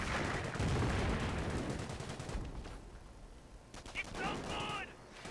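Artillery fire in Company of Heroes, with overwatch shells and a walking barrage landing in a dense, rumbling burst of gunfire that thins out, then a softer second volley, under some voice.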